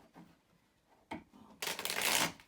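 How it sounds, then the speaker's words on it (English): Tarot cards being shuffled close by: a few light taps and riffles, then a loud, dense flurry of shuffling toward the end. "Let's get the cards shuffled a few times."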